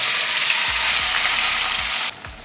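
Tomatoes hit a hot pan where dry chilies and five-spice seeds were fried, giving a loud, close, steady sizzle with a few soft stirring knocks, cutting off sharply near the end.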